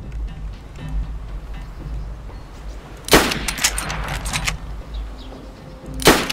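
M4 rifle gunfire in the DayZ video game: two loud, sharp bursts of shots, one in the middle and one at the end, above a low rumbling background hum.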